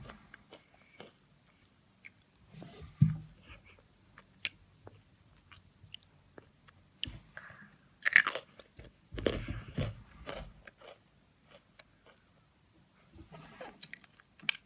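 Someone bites and chews a crunchy fortune cookie up close, with scattered sharp cracks and crunches separated by quiet pauses and softer mouth sounds.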